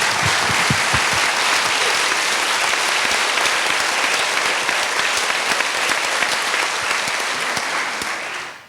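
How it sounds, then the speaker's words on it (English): Sustained audience applause at a This Is My Brave storytelling show in Washington DC, a loud, dense, even roar of many hands clapping that carries on for several seconds before trailing off at the end. "Thank you for the applause"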